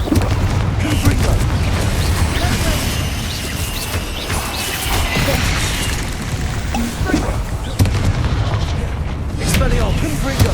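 Confringo fire spell blasts in the Hogwarts Legacy video game, repeated booming bursts over a dense, loud rumble of combat effects, with speech-like sounds mixed in.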